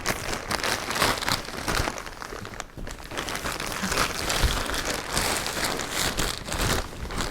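Latex foam being vacuum-packed in a plastic bag gives a continuous close crinkling and rustling of plastic, rising and falling in loudness with a brief dip partway through.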